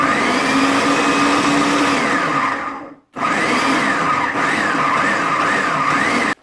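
A food processor pulses and grinds chopped vegetables for chow chow relish, a loud steady whirring motor with a brief stop midway before it whirs up again, with no talking.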